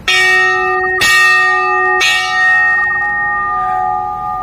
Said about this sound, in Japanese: ああ喜びの鐘ある。